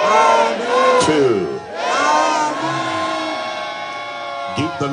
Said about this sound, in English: the people shout the loudest amen three times in the name of our Lord Jesus